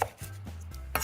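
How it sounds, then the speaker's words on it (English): Knife chopping bacon on a cutting board in a home kitchen, a few distinct chops at the start and end over a low steady hum, with no talking. "I'm gonna start to chop up the bacon"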